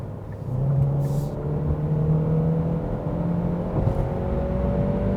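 A 2022 Kia K5 hybrid accelerates on a road at night, its engine and electric motor rising in a smooth whirring drone from inside the cabin, steady and fairly loud with no talk.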